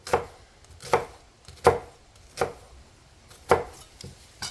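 A knife cutting thin incisions into an onion on a cutting board, six crisp, evenly spaced chops up close in a slow, steady rhythm, with no talk.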